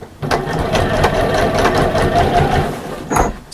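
A sewing machine runs along the bottom seam of a fabric bag, starting abruptly into a close, steady, loud motor whir with rapid needle ticking, then a brief pause and a short final burst of stitching.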